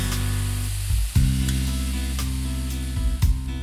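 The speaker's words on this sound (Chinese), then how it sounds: "锅中留一些底油， XO 酱炒香后再放山药" Chinese yam hitting hot oil with XO sauce in a wok, a loud steady sizzle with a few sharp bursts as pieces drop in and get stirred, close and without talk.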